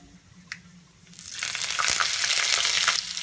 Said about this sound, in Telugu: సిమ్లోనే వేయించుకొని సిమ్లోనే పెట్టుకొని వేయించుకోవాలి పల్లీలు అలాగే జీడిపప్పు వేగిపోయాయి